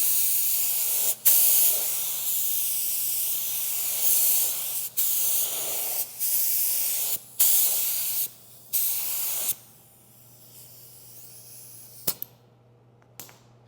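A paint spray gun at 10 psi lays down a second wet coat of paint in repeated close, loud hissing passes of a second or two, broken by brief trigger gaps, then fading to quiet with faint clicks.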